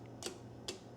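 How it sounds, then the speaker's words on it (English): Two sharp, loud clicks about half a second apart from the relay inside a clear-cased Palomar TX-100 CB/ham amplifier as the radio's push-to-talk is keyed, crisp and close against a faint steady hum. "when you click the PTT on the radio, this relay fires off"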